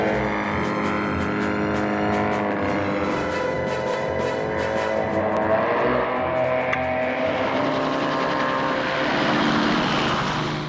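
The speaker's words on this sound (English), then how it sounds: "he's being followed by a bunch of other helicopters" Helicopters in an aerial chase from the 1967 James Bond film You Only Live Twice: a loud, droning engine and rotor sound with strong harmonics whose pitch shifts as the machines pass, with no talk.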